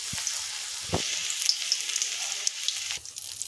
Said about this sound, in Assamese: এনেদৰে মই কেৰাহীত এটা এটাকৈ ফ্ৰাই কৰিছোঁ।